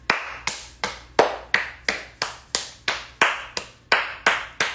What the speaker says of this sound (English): give a round of applause for these hating ass,